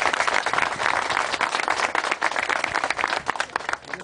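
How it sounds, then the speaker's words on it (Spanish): A crowd bursts into loud, sustained applause, dense clapping filling the whole moment without a pause. "Un aplauso."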